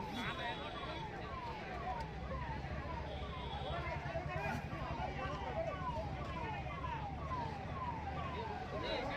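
An ambulance siren wails in rapid repeating sweeps over steady road traffic noise at a farmers' protest in Athani, with a voice speaking over it asking people to make way.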